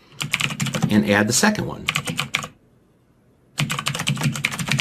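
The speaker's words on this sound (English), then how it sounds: "I'll just use a comma on my keyboard" Rapid clattering keystrokes on a computer keyboard during a programming session, coming in quick bursts with a pause between them, partly heard under a voice.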